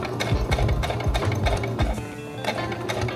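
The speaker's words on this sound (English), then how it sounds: "top stitch again close to the seam" A sewing machine topstitches close to the seam of fabric balloon pants, its needle running in a fast steady chatter with a few brief pauses and restarts, close and loud with no talking.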